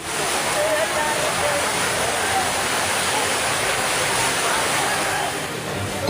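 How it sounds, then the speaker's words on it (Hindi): Floodwater rushes over a national highway in flood-hit Bihar, a loud, steady broadband roar like a torrent that runs without a break for the whole stretch, with no voices over it. "नदी बन गया नेशनल हाईवे।"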